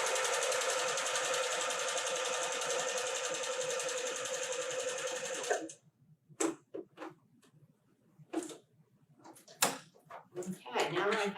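A sewing machine stitches a quilt block for a Whirlwind pattern, running steadily and close for about five and a half seconds before it stops. Several short clicks and handling knocks follow in the quiet.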